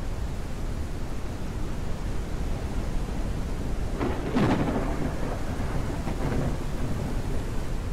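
A thunderstorm in the airship game Forever Skies: a steady rain-like hiss throughout, broken midway by a loud rolling thunder crack that rumbles and fades over a few seconds.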